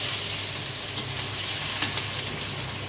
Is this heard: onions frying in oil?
yes